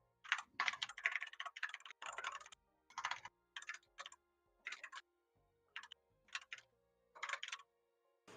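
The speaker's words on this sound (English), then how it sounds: "all we can hear is the DM typing" A computer keyboard clatters in a quiet room as a Dungeons & Dragons game master types, in short irregular bursts of crisp close keystrokes separated by brief pauses.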